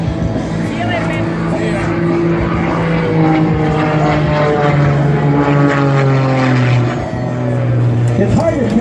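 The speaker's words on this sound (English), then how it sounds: "Oh, there are the lines of that beautiful Extra 300." An Extra 300 aerobatic propeller airplane drones steadily overhead at an air show, its engine pitch slowly sliding and shifting as it maneuvers, loud and continuous across the whole stretch.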